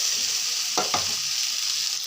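Vegetable fried rice sizzles and is stirred in a hot pan, a continuous frying hiss broken by two quick scraping strokes of a spatula near the middle.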